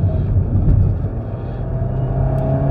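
Alpine A110 S sports car driven hard on a track, its engine droning loud and close with a steady throaty rumble, rising slightly as it accelerates, no voices over it.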